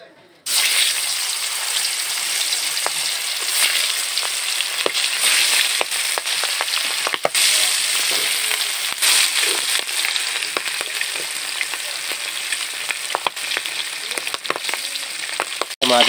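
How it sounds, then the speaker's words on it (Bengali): Magur catfish pieces frying in hot oil in a kadai, giving a loud, steady broadband sizzle with crackling pops that runs almost the whole time after a brief quiet start, with no talk. "এবার আমি মাছগুলোকে ভেজে নেব।"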